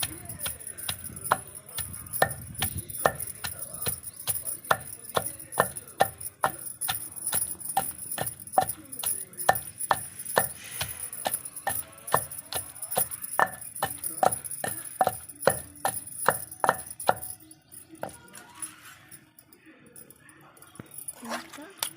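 Green chillies pounded coarsely for chutney, a steady run of sharp, regular thuds struck about twice a second, close and loud, stopping near the end with a quieter scrape.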